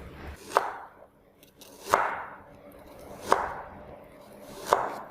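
A knife slicing shallots thinly on a board, four sharp, spaced cuts with short quiet gaps between them, close and alone without talk.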